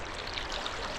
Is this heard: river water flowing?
yes